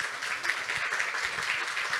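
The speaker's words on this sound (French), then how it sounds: "on peut les applaudir" An audience applauds after a two-person presentation: steady, moderately loud clapping from a crowd that fills the whole stretch without pause.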